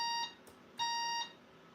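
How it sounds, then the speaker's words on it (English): A WinBook XP laptop beeps when its suspend/resume button is pressed: two steady electronic tones about half a second each, separated by a short gap, fairly quiet with no talk. "It will beep if I press the suspend resume button"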